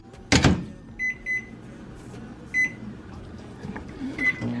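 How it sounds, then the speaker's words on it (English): A microwave oven heating a portion of rice, starting with a loud door clunk and then a few short beeps as it is set, under a low hum and faint handling sounds. "Okay, I just put it in the microwave"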